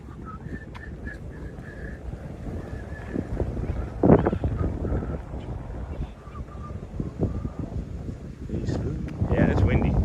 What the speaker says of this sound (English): it's windy. And it's only gonna get windier.